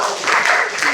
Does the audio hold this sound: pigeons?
no